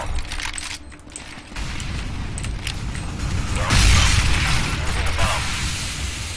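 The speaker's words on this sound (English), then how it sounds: "Molotov." In a CS:GO match, a thrown Molotov cocktail shatters with a loud burst and then a dense, roaring crackle of burning that holds steady, mixed with other game noise.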